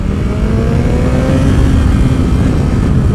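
A BMW S 1000 XR four-cylinder motorcycle engine revs hard above 4000 rpm in first gear, a loud, raspy, rising roar heard close up with no talk over it.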